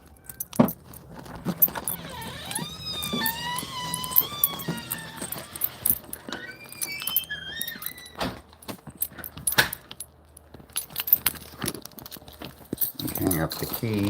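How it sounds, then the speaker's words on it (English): Metallic key jangles as keys are hung up during a road trip, a few sharp clinks scattered across a busy stretch with whistling, birdlike tones and rustling, and people talking at times. "Hang up the keys."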